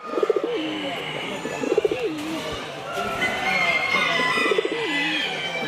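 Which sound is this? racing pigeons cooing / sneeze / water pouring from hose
racing pigeons cooing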